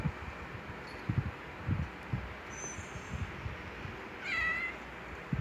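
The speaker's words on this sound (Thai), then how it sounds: "แมวอีกแล้ว" A cat meows a few times at moderate distance, the calls short and rising, with faint rustling and low thumps around them and no talking.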